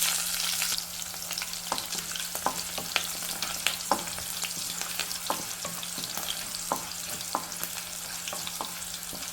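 Chana dal, curry leaves and green chilli frying in hot oil with cumin, a steady close sizzle broken by scattered small pops and crackles, no voices.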